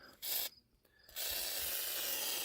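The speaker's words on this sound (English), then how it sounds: "what I like to do before I start taking things off is give things a good dose of WD-40" A can of WD-40 sprays onto rusty RV parts. A short hissing blast is followed by a pause, then a longer steady spray, close and fairly loud, with no talk.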